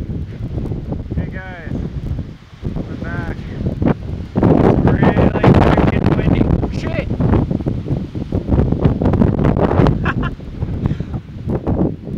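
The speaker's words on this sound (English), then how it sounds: "It's really windy and annoying." Strong gusty wind buffets and roars in bursts in a park, rising and falling, with a few voices and a bird chirping faintly underneath.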